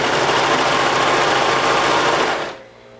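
A serger sewing machine runs steadily, stitching a rolled hem on ruffle fabric. The loud, even mechanical whir continues alone for about two and a half seconds, then cuts off to near quiet.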